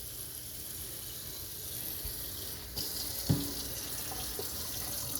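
Water runs from a tap into a dish of leftovers, a steady faint hiss and splash lasting several seconds with a few small clinks near the end.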